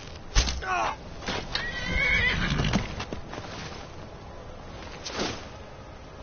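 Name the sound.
horse neighing in the video game Skyrim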